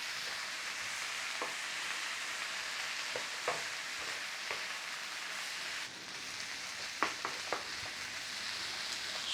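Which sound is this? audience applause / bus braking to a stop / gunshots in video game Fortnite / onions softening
onions softening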